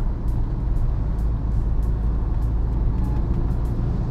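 A car runs at 60 km/h along a wet road, heard as a steady, loud, low rumble of road and tire noise with faint periodic ticking over the top.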